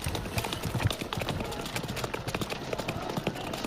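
Horse hooves clip-clop at a knights' tournament, a quick irregular patter of hoofbeats mixed with crowd or ambient noise, moderately distant.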